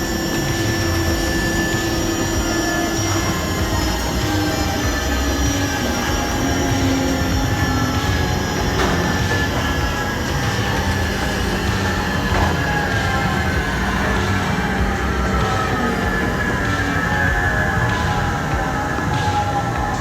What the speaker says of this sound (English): train is approaching Terminal 3.